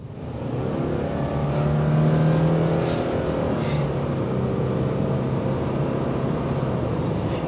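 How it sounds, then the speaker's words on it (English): A 2024 Subaru Crosstrek engine revs up and accelerates, a steady loud drone rising in pitch, with no talking. "You're still going to hear the engine filter in."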